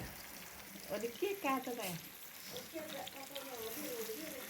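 Murrel fish frying in an oil-filled pan, a steady soft sizzle running throughout with a few brief rising tonal sounds near the start and quieter chirps later.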